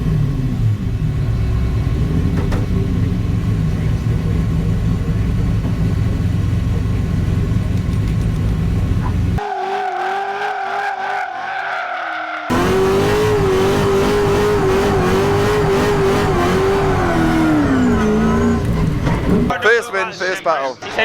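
A Corvette C6 drift car at a pro drifting competition doing a tyre burnout, a loud rumbling engine roaring and revving hard with sustained high revs and screeching wheelspin, followed by a sharp drop and renewed revving, with commentary speech over it.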